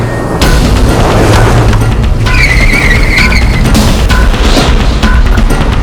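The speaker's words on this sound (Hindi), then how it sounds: "उसने अचानक एक सुनसान इलाके की तरफ गाड़ी मोड़ दी।" A car swerves sharply through a turn, its engine roaring loudly and continuously as the tyres squeal and skid on the road, with no voices.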